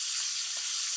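Four large pieces of rohu fish frying in hot oil in a full wok, giving a loud, continuous, dense sizzle with no talking.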